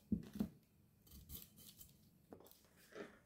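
Vegetables for fried rice (onion, beans, carrot, spring onion, garlic and capsicum) are cut in a kitchen, giving a few sharp knocks and light scraping clicks up close, with no talking.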